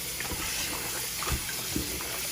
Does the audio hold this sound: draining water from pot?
yes